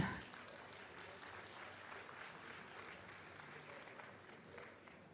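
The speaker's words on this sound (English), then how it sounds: "Give yourselves a round of applause." A large audience at a Blizzard Publishing event applauds steadily, a dense wash of clapping that holds at an even level from start to finish.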